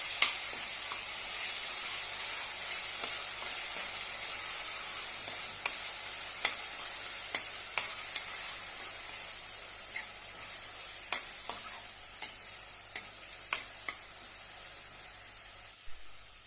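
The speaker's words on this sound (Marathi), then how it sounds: "आता आपण ही जी कांद्याची पेस्ट केलेली आहे ती घालूया आणि छान त्याची परतून घेऊया" Onion paste sautéing in a pan for a spinach and onion chutney, with a steady broadband sizzle throughout and repeated sharp scrapes and taps of a spoon stirring against the pan.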